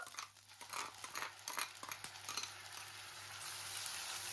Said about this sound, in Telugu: పెరుగు వేసాక బాగా ఇలా కలుపుకోవాలి